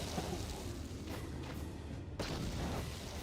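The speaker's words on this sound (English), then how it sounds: "As I throw a grenade" A thrown grenade explodes in the Knights of the Old Republic video game as a deep booming blast, with heavy rumbling noise and a second burst of impact shortly after, and no speech.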